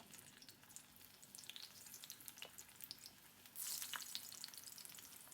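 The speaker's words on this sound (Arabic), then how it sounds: "وعادي ديروا الدنجال يتقلى" Slices of eggplant, salted, fry in oil at medium heat with a quiet, steady crackle and tiny popping bubbles that swell into a brighter hiss partway through. The sound is faint and close, with no talking.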